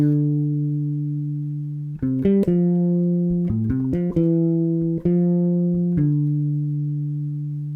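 Clear, sustained bass guitar notes step through a short arpeggio pattern, each note ringing out and decaying, with no voices.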